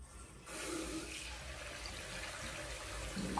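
Tap water runs steadily into a sink during face washing, a close, constant splashing hiss that starts abruptly and continues without pause, with no talking.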